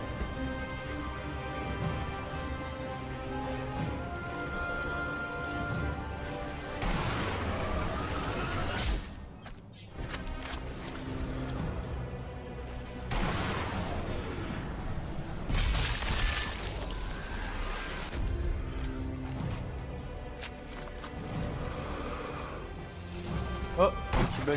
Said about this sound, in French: Je sais pas où on me tire dessus là.